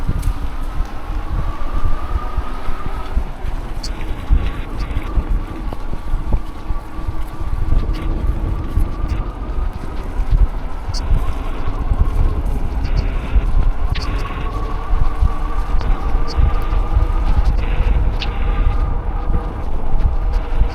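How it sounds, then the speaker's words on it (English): Strong wind rushes steadily past the microphone while riding an e-bike fast on a commute home between Irvine and Orange, a loud continuous buffeting roar with no talking. "that wind against my face when I go fast sends chills down my whole body"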